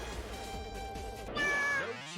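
A cat meows in a racing game tournament match, a clear tonal meow rising over a steady background of engine-like hum and music, brief and fairly loud.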